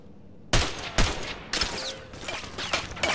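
Gunfire in Ghost Recon Advanced Warfighter: sharp, close rifle shots crack out in a broken rhythm, about six or seven loud reports with short gaps, echoing briefly after each.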